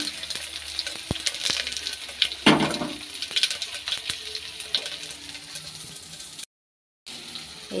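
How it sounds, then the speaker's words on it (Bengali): Panch phoron spices hit hot oil alongside dried red chilies and bay leaves, giving a crackling sizzle with sharp pops and spatters, moderately loud, then a brief cut to silence near the end. "এখন দিয়ে দেবো পাঁচফোড়নটা।"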